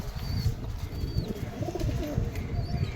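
Pigeons coo in soft, low, repeated rolling calls close by, with a few faint chirps over steady background noise and no speech.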